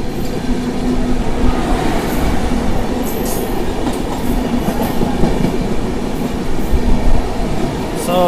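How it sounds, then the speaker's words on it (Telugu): Puri Express passenger train running from Puri toward Tirupati, its broadband rumble and rail noise steady and close throughout, with a faint hum and occasional higher squeals over the continuous roll. "సో ఇది వచ్చే మన పూరి ఎక్స్ప్రెస్ ట్రైన్"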